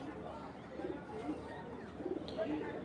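Racing pigeons coo softly in a loft, with a held bird among them; low murmuring coos run steadily under a busy background while someone talks nearby.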